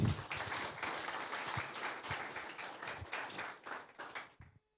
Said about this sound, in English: Please give another round of applause for Maksim.